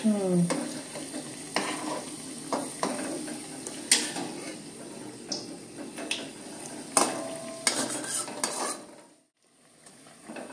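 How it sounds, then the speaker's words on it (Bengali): Onion fritters (peyaji) being turned as they fry in oil: a continuous close sizzle punctuated by repeated scraping and clinks of a utensil against the pan, the frying briefly dropping away near the end. "লাল লাল করে ভাজা হবে এই পিঠ পিঠ।"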